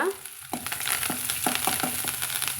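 Onions and curry leaves sizzle loudly in a hot pan while a utensil stirs them, giving a series of rhythmic scraping strokes over the frying hiss.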